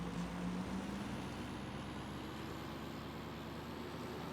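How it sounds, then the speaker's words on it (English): A farm truck with weak air brakes runs steadily up close, its low engine drone and broadband rumble continuous throughout with a brief tonal hiss near the start and no talk. "I wish this truck had better brakes."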